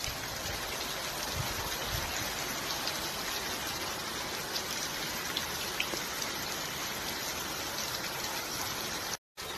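Heavy rain pours steadily onto a tiled house roof, a dense, continuous hiss and patter that stays loud and even throughout with no voices, cutting out briefly near the end.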